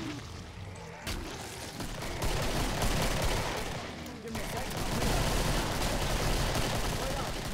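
Dense, overlapping pistol fire from several shooters in the Killing Floor co-op shooter, a near-constant crackling barrage that runs the whole stretch with brief dips, voices faintly mixed in.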